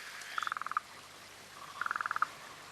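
Two bursts of rapid frog croaks, each a quick run of about eight pulsed notes, ring out clearly over faint background hiss in an Australian wetland after drought.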